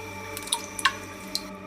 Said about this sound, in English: Only the sound of dripping water echoed through the darkness.